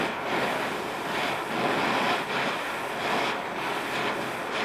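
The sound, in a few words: blowtorch heating metal fan belt wrench red hot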